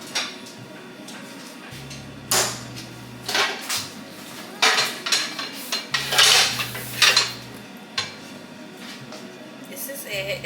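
A skillet and other kitchenware are handled at home, with irregular clanks, metallic clinks and rattles of pots and utensils in separate bursts, some loud and close, over a low background hum.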